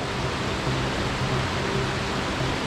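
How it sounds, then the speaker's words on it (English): A mountain creek on the Mt. Lindsey trail rushes steadily nearby, a constant broad wash of flowing water with no pauses or voices. "It's not even a waterfall, it's just a creek."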